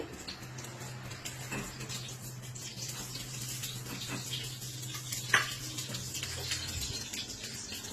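Oil spread across a hot paddu pan makes a steady, soft frying hiss with a low hum beneath it and a short clink partway through.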